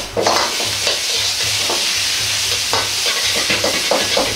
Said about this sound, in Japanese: すべてが全体に混ぜ合わせるように鍋を振りながらまとめていきます。